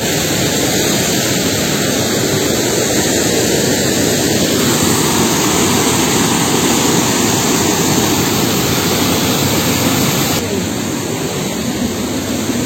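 A waterfall pours in a steady, loud, unbroken roar of rushing water, close by and alone with no voices.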